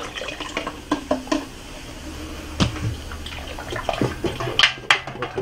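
Dissolved indigo dye is poured into a dyeing vat of strongly alkaline water, giving close splashing and trickling liquid with a few louder sloshes near the end.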